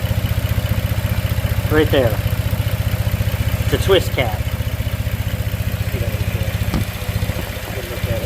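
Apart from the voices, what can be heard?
car engine idling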